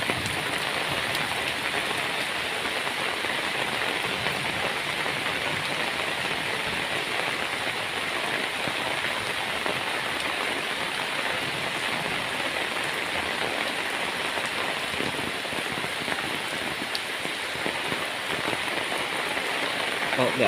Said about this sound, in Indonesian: Sambil hujan-hujanan